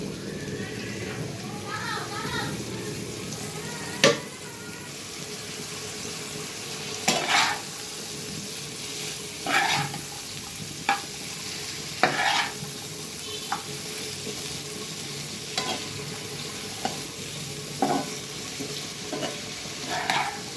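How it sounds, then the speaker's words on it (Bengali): Chopped onions and chillies frying in a pan, stirred with repeated sharp scrapes and clanks over a steady sizzle, while muffled voices murmur in the background. "ভালো করে নেড়ে নিচ্ছি"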